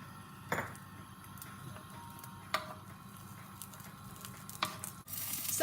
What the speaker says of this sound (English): I'm just adding all the veg to the pan now, which has been heating up for a couple of minutes with some oil in it